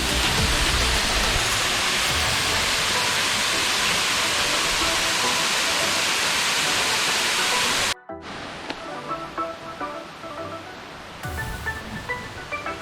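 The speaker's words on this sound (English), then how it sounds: "The waterfall is awesome." Steady, loud broadband roar of a waterfall in Puerto Rico fills the first eight seconds, then cuts to a quieter, nearer rush of falling water with faint background sounds.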